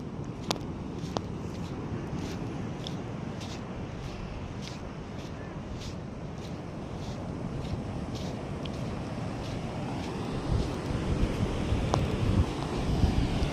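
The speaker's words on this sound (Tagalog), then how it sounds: "Guys, ang ganda po ng dagat oh." Sea waves and wind at a beach, a steady broad rush of surf with gusts buffeting the microphone, growing louder toward the end, with faint voices.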